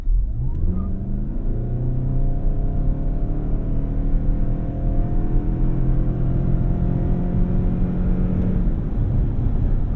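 A 2025 Toyota Highlander Limited 25th Edition SUV in sport mode launches hard from a standstill with its tires spinning, and its engine note climbs steadily and loudly through the gears from inside the cabin.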